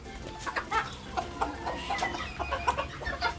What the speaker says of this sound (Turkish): Bu ırklar cüce koşinler. Bunlar minik tavuk ırkları ve çok sakin uysal bir ırk.